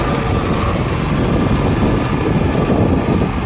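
A 1995 Opel Vectra engine runs steadily close by, a dense, even mechanical hum and rumble with no talk over it.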